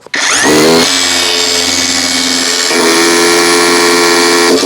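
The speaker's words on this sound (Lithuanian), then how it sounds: "Tai kaip prisukti, su kuo prisukti, tai sukam mes su betonstrikčiais." A DCK power drill whines loudly and steadily as it drives concrete screws into block while fixing a wooden frame, with a brief start-up before the long sustained run.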